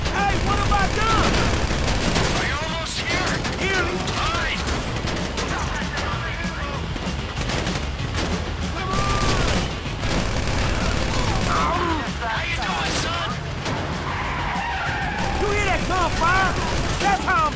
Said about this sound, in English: Listen to the shooting.